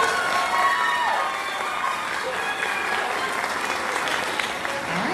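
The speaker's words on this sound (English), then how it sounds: "All right, let's give him a round of applause." Audience applause fills a school's fifth grade promotion ceremony, a steady wash of clapping with some cheering and children's voices mixed in, loud and continuous throughout.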